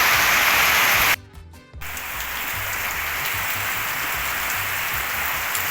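Heavy rain falls in a loud, continuous broadband roar, broken only by a short gap of about half a second near the start before the downpour resumes steadily.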